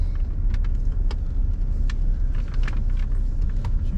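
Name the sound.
1991 Mercedes-Benz 300SE car driving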